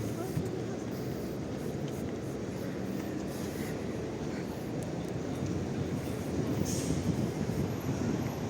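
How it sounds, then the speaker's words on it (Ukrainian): An old tram rumbles past in central Lviv with a steady, dense clatter of wheels on rails, close by and continuous throughout. "старий трамвайчик."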